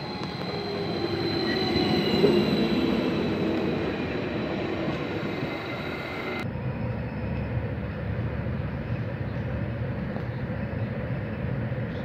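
Ride aboard the R119 regional train towards Arnhem Centraal, heard from inside the carriage. A continuous rolling rumble with rising wheel squeal peaks early, then gives way to a steadier, duller running noise.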